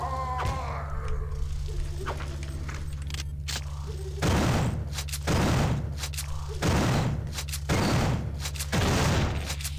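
Shotgun blasts at spiders in System Shock 2 come as four loud, booming shots spaced roughly a second apart over a constant low in-game drone, preceded by quieter game sounds.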